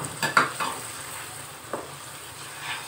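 Ground coriander, chili, turmeric and salt stirred in a pan for egg masala, with a soft sizzle and a few scraping stirs clustered early and one more later.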